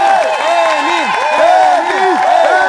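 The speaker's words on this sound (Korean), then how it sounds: "도전에 큰 박수로 부탁드린답니다" A studio audience applauds and cheers at a televised challenge show, a loud, dense wash of clapping with shrill, swooping voices and whistles on top, sustained for the whole moment.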